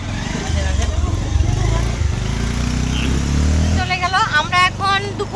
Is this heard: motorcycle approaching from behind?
yes